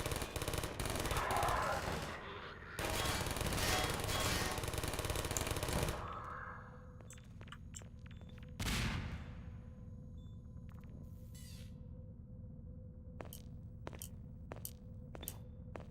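Automated turrets in Half-Life 2 firing rapid bursts, first in long dense rattling volleys, then a gap, then short separate shots scattered at the end.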